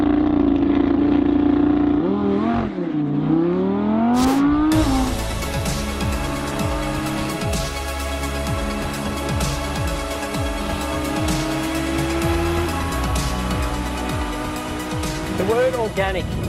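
A 2018 Audi R8 V10 RWS accelerates hard on a fast Australian racetrack, its engine revving up through gears with sharp shift breaks, loud and close, under someone talking.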